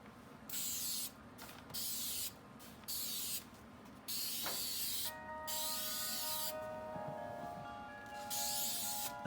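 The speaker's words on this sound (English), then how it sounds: "You spray the back, spray the whole thing in layers." Spray can laying clear coat over BMW 3 Series brake calipers, several short hissing bursts separated by brief pauses, then longer sustained sprays, close and clear with a faint ringing tone in the later passes.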